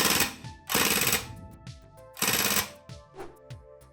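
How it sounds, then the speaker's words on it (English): An airsoft Uzi dry firing with its standard dual spacers gives short, snappy mechanical bursts, four rapid rattling volleys close up with brief quiet gaps and small clicks between them. "here's dry fire with the dual spacers as it comes with standard. It's much more snappier in the rate of fire and higher"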